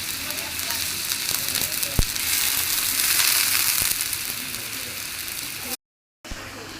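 Lemongrass and galangal frying in a rendang pan give a loud, steady hiss of sizzling oil with a few sharp knocks, briefly cut by a gap of silence near the end.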